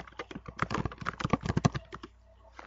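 Keystrokes on a computer keyboard during an Oracle database session, typed in a quick irregular burst of close, crisp clicks that stops near the end.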